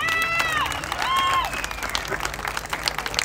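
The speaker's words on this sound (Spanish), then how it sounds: "¡Fuerte el aplauso!" An audience at a Mexican clown comedy show claps and cheers in a dense burst, with shouted voices and whistles over the crowd noise.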